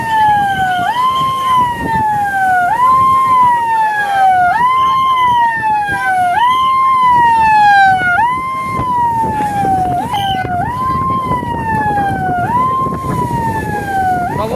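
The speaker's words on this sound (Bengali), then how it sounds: "প্রবল উত্তাল সমুদ্র সাইরেন বাজিয়ে ঘুরে সাবধান করছেন নুলিয়া কর্মীরা" Lifeguards' warning siren sounding along the rough-sea beach at Digha, a loud, close wailing tone that sweeps up and down in repeated cycles about every 1.5 seconds, steady throughout with no talk.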